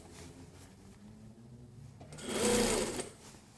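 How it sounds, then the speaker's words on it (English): A sewing machine stitches the sleeve hem of a jacket in one loud, steady burst of just under a second, close by, after a quiet room. "And we're just going to sew."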